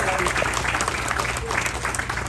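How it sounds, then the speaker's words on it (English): Clapping from an outdoor crowd at a rail track completion ceremony, many hands in a busy continuous patter over a low rumbling hum, fairly loud and steady. "So big round of applause to them."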